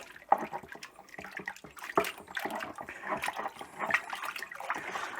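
Hot water pours into a brewing vessel to dissolve beer extract and brew enhancer, giving an uneven splashing, gurgling flow with a few louder clunks, close and moderately quiet.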